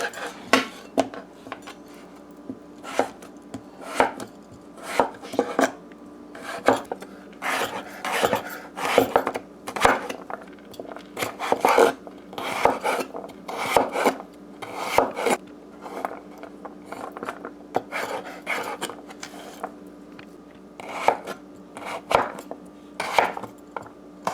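A knife cuts papaya into squash-sized chunks on a board, giving repeated sharp close taps and scraping strokes in an uneven rhythm against a faint steady hum.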